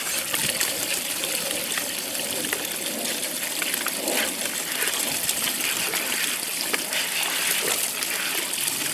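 Water trickles and splashes continuously over a TetraPond waterfall filter fed by a 3,500-gallon-per-hour pump, a steady close-up babble with no pauses.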